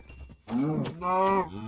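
Minecraft cows moo twice, close and clear, one short low call followed by a longer one.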